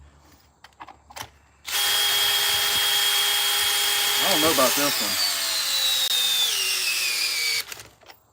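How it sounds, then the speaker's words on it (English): A power drill runs loud and steady for about six seconds during a pumpkin-carving session, its whine bogging down and straining partway through before it cuts off, with a voice speaking briefly before it starts. "The drill can't even take it in one."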